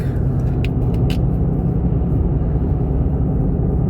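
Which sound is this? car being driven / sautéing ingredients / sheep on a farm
car being driven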